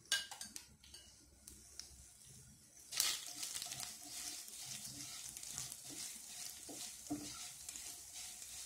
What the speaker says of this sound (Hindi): ऑयल गर्म होने के बाद उसका अंदर हम होल दाना डालती हूँ